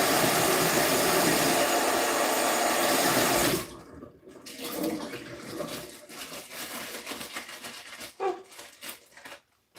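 Tap water runs loudly over vegetables being rinsed in a kitchen sink for chicken chow mein style noodles, a strong steady gush that stops abruptly, followed by quieter splashes and clatter.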